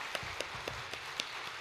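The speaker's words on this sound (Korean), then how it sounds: "하나님 앞에 가면 큰 찬양 경배 박수 한번 드려볼까요?" A church congregation claps in worship, a faint, distant beat of unison claps repeating at a steady, brisk rhythm.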